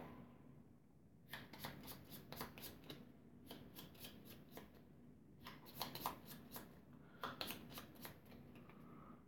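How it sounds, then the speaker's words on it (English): A deck of Gloomhaven board game cards is riffle-shuffled by hand several times in quick rattling bursts with short pauses between, close but quiet over a low steady hum. "we need to reshuffle their deck as well"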